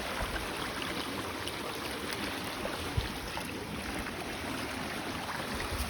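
A mountain creek flows outdoors near a patch of wild nettles, making a continuous broadband rushing wash at a moderate, even level with no voices.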